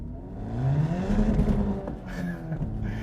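A 2025 Acura Integra Type S accelerating hard in first gear and losing traction, its engine note climbing steadily in pitch with a faint tire-scrabbling whir, loud and close without any talking.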